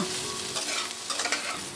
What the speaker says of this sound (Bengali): মাথা ভাজার পর যে তেল অবশিষ্ট ছিল সেই তেলের মধ্যেই আমি বেগুনগুলো একটু হালকা লাল করে ভেজে নেব